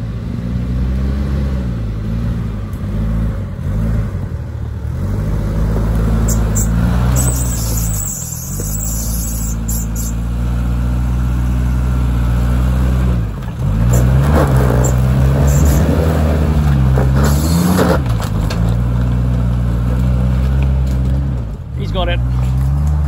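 A supercharged V8 Range Rover L322 drives steadily, its engine a loud, continuous low drone with rises and dips in revs as it accelerates and eases off, close and dominant throughout.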